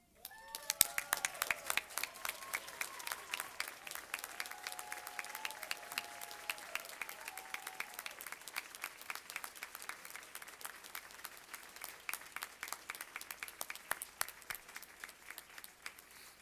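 Scattered, thin clapping at a university commencement builds into a sparse, uneven patter of separate claps, fairly faint and distant, with brief tonal sounds early on.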